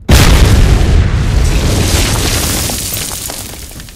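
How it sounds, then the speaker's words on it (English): A loud explosion from the Ground Branch tactical shooter game bursts in abruptly, then rumbles and slowly decays over several seconds with no voices. "And of course, we've got cool explosions,"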